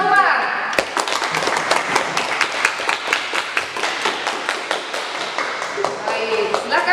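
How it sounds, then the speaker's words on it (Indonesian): Students in an eighth-grade classroom clap their hands in a brisk, uneven round of applause, close and loud. A few voices can be heard along with the clapping. "Ayo, tepuk tangan buat Umar."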